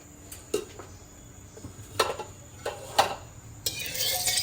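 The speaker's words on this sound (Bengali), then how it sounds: "আলু চপের লেগে আলুটা আমি বাগার দিয়ে নিচ্ছি" Potatoes for aloo chop tempered with dry chillies and cumin stir and scrape in a pan, with sporadic utensil clinks and taps over a low background hiss, ending in a brighter sizzle.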